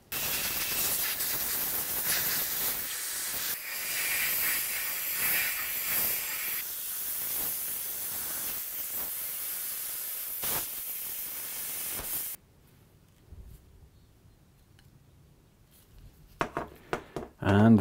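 A compressed air line hisses in long, loud continuous blasts, blowing the cleaned parts of an abandoned lawn mower dry, then cuts off into near quiet with a few short bursts at the end.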